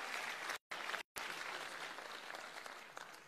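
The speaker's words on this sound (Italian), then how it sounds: "Vedi che fu bravo, un applauso a Danilo." Applause from the audience at a Sicilia Vera political convention at Le Ciminiere in Catania: a dense wash of clapping, fairly distant and soft, cut briefly by two short dropouts before continuing steadily.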